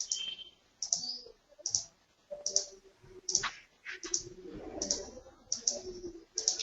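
Computer mouse being clicked repeatedly on a desk, a steady series of sharp, close clicks spaced roughly a second apart, with faint keyboard tapping and small handling noises between them and no voices.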